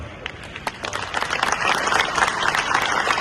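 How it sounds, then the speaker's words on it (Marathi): Audience applause at an award felicitation ceremony in Nagpur, a dense wash of clapping that builds and grows louder toward the end, with no speech over it. "जोरदार टाळ्या"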